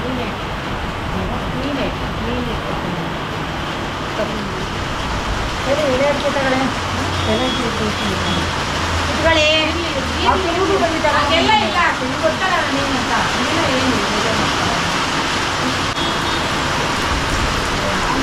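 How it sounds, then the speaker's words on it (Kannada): Heavy rain pours steadily throughout, with people talking over it and the occasional vehicle passing nearby. "ಮಳೆ ಬೇರೆ"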